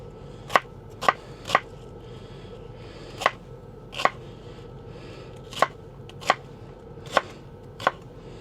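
An onion is chopped with a knife on a cutting board, giving about ten crisp, separate knocks at an uneven pace over a quiet background.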